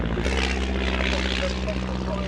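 A monoplane trainer aircraft flies by at an evening air show, its propeller engine droning steadily at moderate loudness while a voice talks over it.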